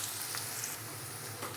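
Onions sautéing in a pan for a Tamil spinach-lentil dish, a steady close sizzle with faint stirring scrapes, no voices.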